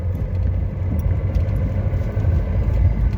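A manual-transmission car's engine rumbles loudly from inside the cabin on a night street, a steady low droning with slight swells in intensity and no talking.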